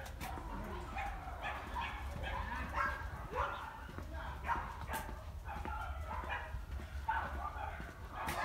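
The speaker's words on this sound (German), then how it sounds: "Auch hier werden dann die Hunde aus den Gebäuden immer wieder rausgebracht, dass sie ein bisschen Freigang haben." Dogs at an animal shelter in China barking and yipping in scattered bursts outdoors during free run time, fairly distant and faint over a low steady rumble.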